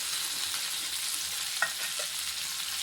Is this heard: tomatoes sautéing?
yes